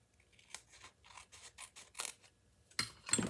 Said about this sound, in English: And then just a little snip here because I didn't fold it evenly.